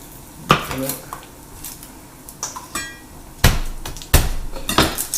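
A knife chops garlic cloves on a cutting board, making a few irregular, close knocks and clacks with quiet gaps between them.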